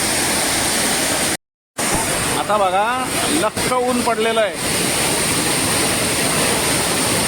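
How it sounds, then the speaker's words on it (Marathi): The Savdav waterfall near Kankavli rushing with strong, high flow, a loud steady roar with buffeting wind on the microphone, one brief dropout and someone speaking over it partway through. "ह्या धबधब्याला आज जरा पाणी जास्ती आहे जोर आहे तिथून तो तिथून खाली जातोय"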